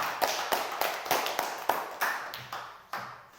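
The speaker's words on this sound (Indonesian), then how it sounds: "kita tepuk tangan" A school class claps hands together in a steady rhythmic pattern of sharp, evenly spaced bursts, close and moderately loud in a classroom, with no talking.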